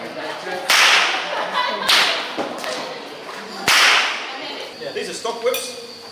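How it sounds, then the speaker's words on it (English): Australian stock whips of kangaroo leather crack outdoors: three loud, sharp snaps spaced over several seconds, each ringing briefly, with fainter smaller cracks near the end. "we all got a lesson in whip cracking, where Rocky Reefs really had a go."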